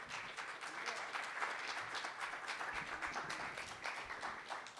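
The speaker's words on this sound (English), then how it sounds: "Give her a round of applause." Audience at a live magic show gives a volunteer a round of applause, a dense, even roar of many hands clapping that holds steady for nearly five seconds, fairly distant and soft.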